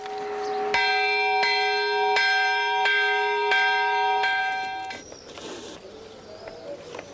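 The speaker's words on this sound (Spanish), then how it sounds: "se descubren las campanas, que tradicionalmente tañían las jornadas de los habitantes de nuestros pueblos" Bronze church bells ring out in a village of the Alagón valley, several clear, resonant strikes in a steady sequence, each leaving a long shimmering hum, before the ringing fades into faint outdoor ambience.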